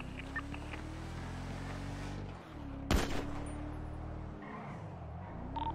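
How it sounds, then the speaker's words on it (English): Gunfire in a GTA V roleplay game, a sharp burst of shots cutting in around the middle over a steady vehicle engine drone, with scattered faint pops around it. "They're shooting me!"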